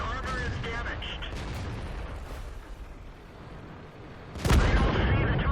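A tank cannon in World of Tanks fires one loud, booming shot, with light-tank battle noise and rumbling explosions before it and voices talking over the scene.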